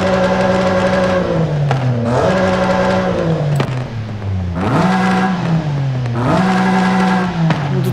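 A car exhaust revs repeatedly in Forza Horizon 5, loud and close, the engine climbing and dropping in several sweeps with a brief lull between bursts and no talking.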